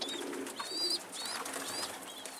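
Pigeons in a loft calling over steady ambient noise, with several short chirping and cooing calls spread across the moment rather than one continuous sound.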